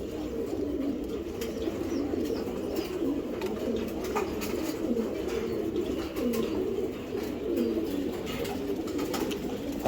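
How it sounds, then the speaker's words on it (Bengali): Giribaj pigeons coo continuously and close by, a low, rolling murmur of overlapping calls with no talk. "এই যে একটা মাদি কবুতর দেখেন"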